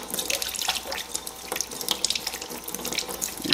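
A beet with its ends trimmed is rinsed under a running kitchen tap, giving a steady, close splashing water stream with small irregular splatters as it is turned by hand, with no talk.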